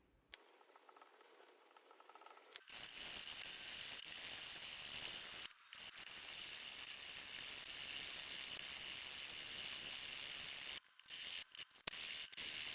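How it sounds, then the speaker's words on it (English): A hatchet blade being sharpened on a Wicked Edge guided sharpening system, steady gritty abrasive scraping strokes running continuously and fairly loud, broken by a few short pauses. "this is how you can sharpen a hatchet on the Wicked Edge sharpening system"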